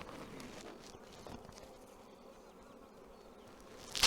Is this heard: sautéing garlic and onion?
no